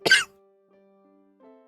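A single sharp cough bursts out up front, then gives way to a faint steady tone and near silence for the rest.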